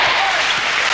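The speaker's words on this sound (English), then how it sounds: "Defence screams the crowd." Basketball crowd at a 1993 Grand Final game between Melbourne Tigers and Perth Wildcats roars loudly and continuously, a dense wall of cheering and shouting for defence.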